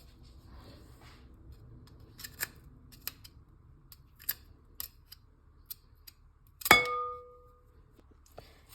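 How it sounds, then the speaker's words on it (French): Garlic being crushed with a pestle in a mortar: scattered light taps and clicks, then one louder ringing knock near the end, heard alone at close range. "Je vais mettre de l'ail, je vais venir l'écraser. Vous pouvez l'écraser avec le pilon."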